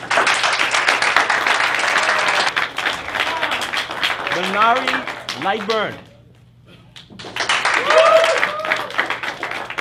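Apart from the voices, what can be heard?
studio audience applause for a guest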